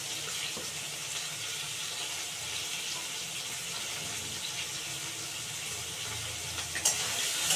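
Water from a kitchen tap runs steadily over cut green chillies in a sink. The hiss is close and constant, with no talking, and swells slightly near the end.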